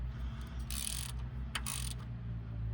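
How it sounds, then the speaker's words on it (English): A wrench tightens bolts on a 46RE transmission governor pressure solenoid, with bursts of quick ratcheting clicks, close and distinct over a low steady background hum, and no voices. "now that we got the bolts hand tight, we just want to bottom them out and go just a little bit further"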